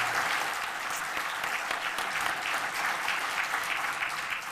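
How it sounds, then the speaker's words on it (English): Banquet audience at the Central Floridian of the Year 2015 event applauding, a broad dense clapping from a large room, steady and fairly distant, sustained without a break. "Give them a round of applause for this wonderful event."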